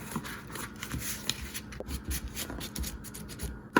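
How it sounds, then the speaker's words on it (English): Paper being creased by pressing and rubbing along a fold with the side of a pair of scissors while making a box-book; soft scraping and rubbing strokes, close and quiet, with no talking. "So I'm just gonna use my scissors as like a bone folder."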